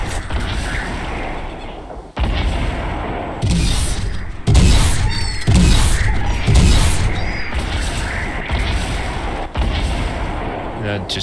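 Rocket launcher explosions boom one after another in the Fortnite Christmas update, loud heavy blasts at an irregular pace with whooshes and debris between them.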